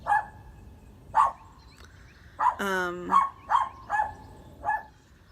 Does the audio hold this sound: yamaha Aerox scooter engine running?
no